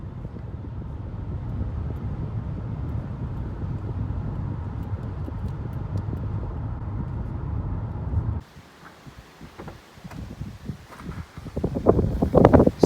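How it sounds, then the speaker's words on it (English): Steady low engine hum and road rumble from the driver's seat of a moving 1999 Cadillac Fleetwood Limited, then the noise cuts to a quieter cabin with rustling and knocks. "a quick video of what the car sounds like from the driver's seat"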